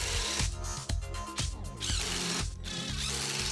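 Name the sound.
power drill driving screws into shop vac boom arm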